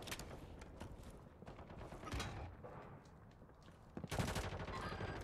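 Rapid bursts of gunfire from the new RAM rifle in Call of Duty, with a longer automatic volley near the end after scattered shots, loud and close amid game noise.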